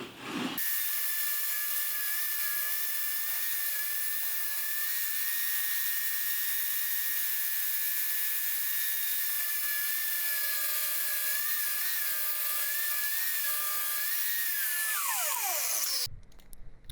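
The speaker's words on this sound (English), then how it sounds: "if I cut it roughly in half and take off this edge" A steady, continuous whining power-saw cut through a wooden 2x4 lasting many seconds, loud and close, with the motor pitch dropping as it winds down.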